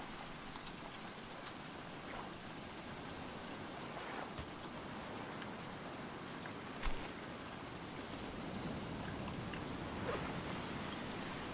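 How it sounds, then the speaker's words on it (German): Steady rain in the game Stranded Deep hisses continuously, with scattered drops tapping nearby and a soft distant rumble, no voices. "Es regnet."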